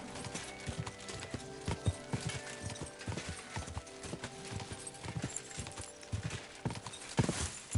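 Horse hooves in the video game Kingdom Come: Deliverance clip-clop in an irregular walking rhythm, fairly close, with occasional snorts over a busy outdoor background.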